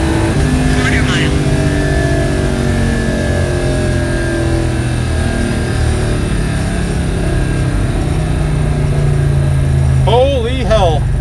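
A project car launches hard and accelerates through a quarter-mile drag run, its engine roaring loud and close with rising gear pulls, and voices briefly talk over the run.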